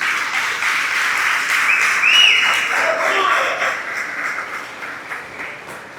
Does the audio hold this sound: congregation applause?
yes